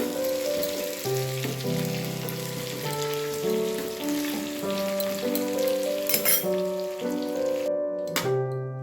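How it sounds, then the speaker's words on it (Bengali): Onion, garlic, ginger and tomato fry in a little oil in a wok, giving a steady, close sizzle that runs the whole time beneath a sustained musical backing, with no talking. "এবারে কড়াইয়ে অল্প একটু তেল দিয়ে আমি পেঁয়াজ, রসুন, আদা আর টমেটো ভেজে একটু নরম করে একটু ভেজে নেব"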